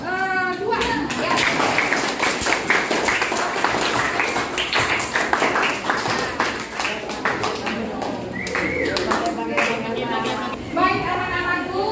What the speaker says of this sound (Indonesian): Tepuk tangan dong untuk kelompok 2 ya.